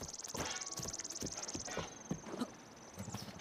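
Horse hooves clip-clopping in Zelda: Breath of the Wild, a quick regular trot of hoofbeats that slows and stops, over a light game ambience with a soft voice near the end.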